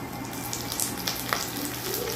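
Ginger, garlic and small shallots fry in oil in a pan for a coconut-based sardine curry, producing a continuous close sizzle and crackle with a few light pops and stirring noises.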